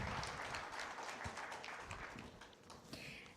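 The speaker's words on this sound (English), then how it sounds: "Give her a round of applause" Audience applause at a publishers' congress in New Delhi, a steady wash of clapping from a hall that stays fairly even and moderately quiet for a few seconds before tapering slightly.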